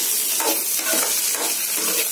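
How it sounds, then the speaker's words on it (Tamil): Veld grape being stirred and sautéed in sesame oil for a Tamil chutney, a loud close sizzle with rhythmic stirring scrapes rising and falling. "நல்லா வதங்கிட்டு இருக்கு, நல்லா வதக்கிக்கோங்க."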